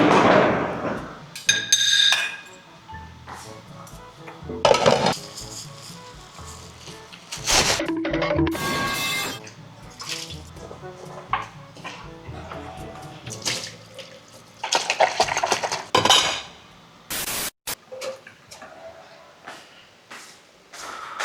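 Plates and cutlery being washed at a home sink after a meal, with running water and scattered sharp clinks and clatters of dishes knocking together, close and intermittent throughout.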